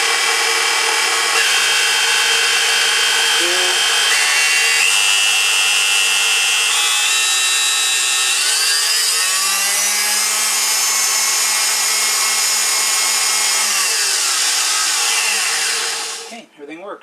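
A KitchenAid stand mixer runs after its loose head was tightened, a steady loud motor whine holding for about sixteen seconds with shifting pitch before it winds down and stops.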